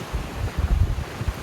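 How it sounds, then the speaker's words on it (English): Gusty wind blows through a narrow sandstone slot canyon in Texas, buffeting the microphone in loud, low rumbling bursts with no talking. "Wind is picking up here and there."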